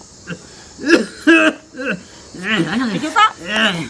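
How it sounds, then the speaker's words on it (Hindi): An old man coughs and clears phlegm from his chest, a string of rough, wet hacks and throat-clearing bursts in quick succession, close and loud. "देखै छियै त एखनो खखर लकै हन, खखार होइया, कफ बैठल छै छाती में।"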